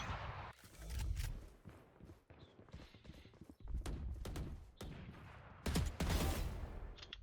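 Rapid bursts of gunfire from an aim-training session in a video game, sharp repeated shots in irregular clusters with brief pauses between them, fairly close and loud.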